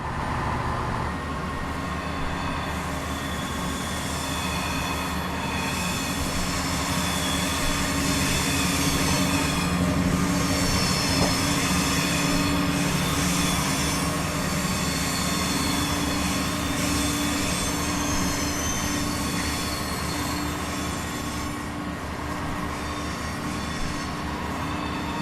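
Train running in Train Simulator 2017, a continuous loud rumble of wheels on rails with faint squeals and rhythmic clatter, steady and close for the whole stretch, no voices.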